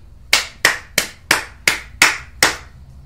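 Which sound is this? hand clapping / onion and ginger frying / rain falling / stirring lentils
hand clapping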